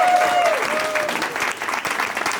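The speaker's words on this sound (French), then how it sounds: "Applaudissez tous un petit coup là" Audience members at a student talent show clap steadily in a short, even burst of applause, with a fading musical tone at the start and faint talk beneath.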